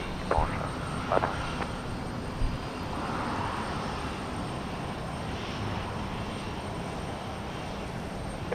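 Delta 441 Heavy, a jet airliner departing Houston Intercontinental, makes a loud, steady broadband engine roar that fills the scene. A few brief sharp sounds come early, and faint voices may be present.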